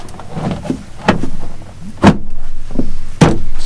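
The rear door panel of a 2004–2008 Ford F-150 extended cab is hooked on and slid down into place, a series of loud plastic knocks, clunks and scraping slides, close up with short gaps between impacts.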